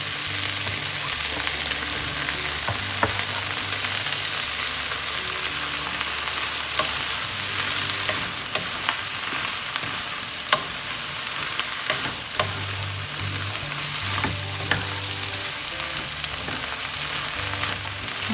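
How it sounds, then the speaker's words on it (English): Vegetables and mushrooms sauteing in a pan give a steady, close sizzle and crackle that runs throughout, with occasional soft stirring clicks and faint low hum underneath. "just sauteing the vegetables so that they get blended together with the flavoring"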